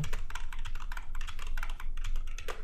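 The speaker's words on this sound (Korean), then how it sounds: "띄어쓰기를 해주면 스페이스 눌러서" Computer keyboard keys, including the space bar, are pressed in a quick, even burst of clicky taps up close for a few seconds during HTML coding, with no voices.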